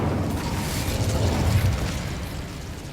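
An Incendio fire spell goes off in the video game Hogwarts Legacy as a loud, rushing burst of flame that swells in the middle, then tails off into a roaring rumble, with no voice over it.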